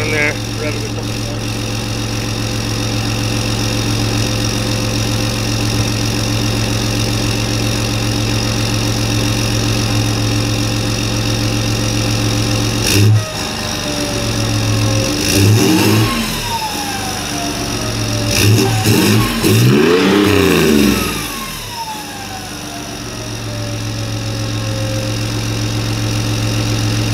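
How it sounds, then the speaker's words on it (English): A deleted and tuned Ford F-150 Powerstroke diesel truck engine idles with a steady low rumble, then revs up sharply twice in quick succession and falls back to idle, loud and close. "I'll run in there, rev it a couple times."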